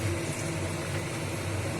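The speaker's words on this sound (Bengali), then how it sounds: "বাদামগুলো ভেজে নেব" Peanuts frying in hot oil in a home kitchen pan for aloo bhujia, a steady close bubbling sizzle with a low rumble that holds evenly throughout.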